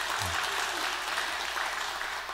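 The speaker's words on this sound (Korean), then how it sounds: "큰 박수로 하나님께 영광을 돌리겠습니다" A church congregation at a Sunday worship service claps loudly and continuously, a thick, unbroken wash of many hands filling the hall for a couple of seconds without any pause.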